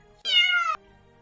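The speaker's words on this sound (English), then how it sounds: "That's gonna be a long meow right there." A single long, clear cat meow, loud and close, rising then falling over about half a second against a quiet background with no talking.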